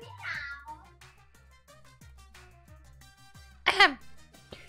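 A person imitates a cartoon-style cat meow, a short nasal vocal meow near the start and a louder, higher strained meow toward the end, set against a steady low background hum with no other talk.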